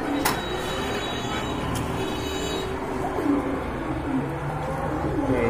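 Pigeons for sale, kept in pairs, coo softly among steady background noise, with a few low throaty calls rising and falling across the stretch.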